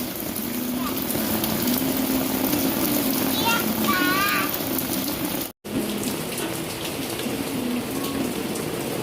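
Steady rain hisses down on a surface, close and continuous, while a small child plays in the downpour and a brief childish vocal sound rises midway.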